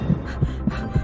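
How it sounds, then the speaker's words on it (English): Cartoon heartbeat sound effect thumping in a steady, quick rhythm, four soft low beats close up and alone with a faint hum beneath. "Why is Riley's heart beating so fast?"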